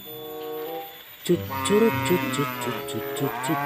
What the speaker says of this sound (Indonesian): ada suara sapi di sini